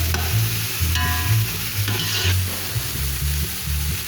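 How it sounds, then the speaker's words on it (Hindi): Chopped green onion and capsicum sizzle in a pan while being stirred, steady frying hiss with rhythmic scraping strokes of the spoon, close and fairly loud, no voices. "हरी प्याज डाल दी है और शिमला मिर्च डाल दी है। हल्का सा इसको फ्राई कर लूँगी।"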